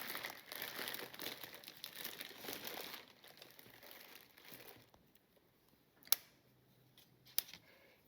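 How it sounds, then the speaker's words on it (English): Paper cups crinkle and rustle softly up close while being handled, busy for the first few seconds, then quieter with two sharp clicks near the end. "I have these paper cups that I'm going to be using."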